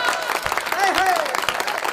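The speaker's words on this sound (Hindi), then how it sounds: "आपकी तालियां कमजोर है" An audience at a Hindi poetry gathering claps and cheers in a steady wash of applause. A voice calls out over it.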